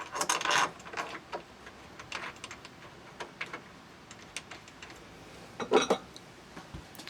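Small metallic clicks and ticks as screws are put back into a Yale Platinum Euro cylinder lock, scattered and close, with a louder cluster of clinks near the end.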